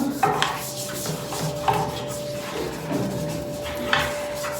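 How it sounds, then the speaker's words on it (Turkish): Repeated scrubbing strokes of a brush rubbing against a surface, close and moderately loud, with a steady thin tone running underneath. "Şu ses bana terapi gibi geliyor şu fırça sesi biliyor musunuz?"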